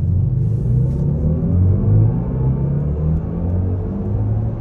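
A BMW iX electric car pulls away under acceleration, giving a deep, steady rumbling drone with a faintly rising tone, heard up close and alone.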